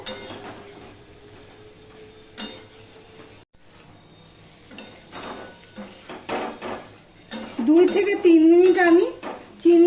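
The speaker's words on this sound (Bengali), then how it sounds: "এবার দুই থেকে তিন মিনিট আমি আবারও ভেজে নেব টমেটোটাও নরম হবে আর চিনিটাও গলে যাবে" Ivy gourd fries with tomato and sugar in a pan, sizzling under spatula clatter and sharp metal knocks. A voice talks over the cooking, and a louder hiss with scraping builds toward the end.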